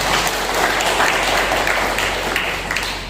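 Audience at the inauguration ceremony of a legal aid centre's officials gives a loud, full round of applause that holds steady for about three seconds and then begins to fade.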